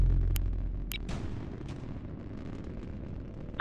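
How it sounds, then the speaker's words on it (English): Incoming enemy fire in a naval combat video game: a heavy booming blast at the start, then sharp cracks and bursts over a dense low rumble, fading to a steady roar. "Enemy fire. Incoming."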